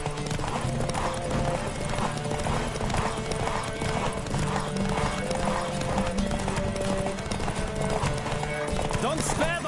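Hooves of a horse drum in a fast, steady gallop in The Witcher 3 game, loud and continuous over a rushing background, with a short whinny near the end.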